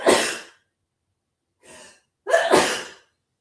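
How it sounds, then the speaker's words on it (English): A woman sneezes loudly and close, with a sharp breathy burst, a short gasping inhale after a pause, and then a second forceful sneeze. "Wait, I got to sneeze."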